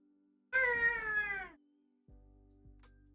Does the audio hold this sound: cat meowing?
yes